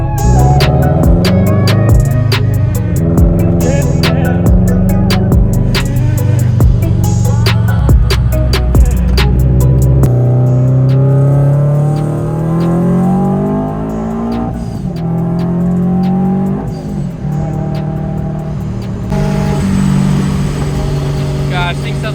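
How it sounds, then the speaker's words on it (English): A lowered Toyota 86 / Subaru BRZ sports car running on E85 revs hard while driving, its engine climbing and dropping through loud sustained pulls with gear changes, a jet-like whine and some tire noise, close and continuous. "Gosh, this thing sounds like a jet."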